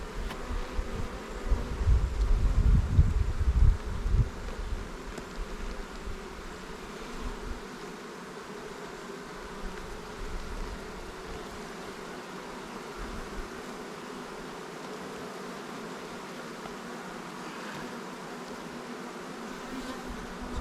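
Honey bees drone steadily around an open hive on an afternoon, a continuous close buzzing swarm with a louder rumble of handling noise in the first few seconds, then an even hum throughout.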